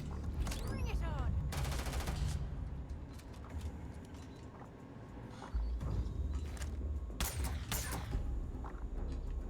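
Automatic turret fire in Starfield rattling in quick bursts, loudest near the start and again toward the end, mixed with mechanical clanks and game effects while someone talks.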